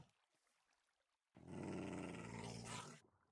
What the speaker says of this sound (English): What the hell are you growling at?